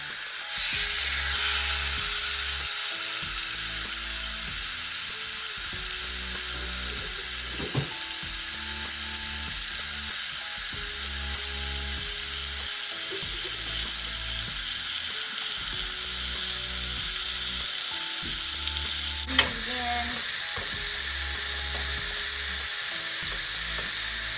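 Steak and vegetables sizzle steadily in a hot pan, a loud continuous frying hiss lasting throughout with a low rhythmic background pulse and a couple of brief clinks.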